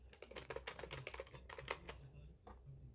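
Computer keyboard being typed on, a quick close run of crisp key clicks for about two seconds, then a pause and a few more taps.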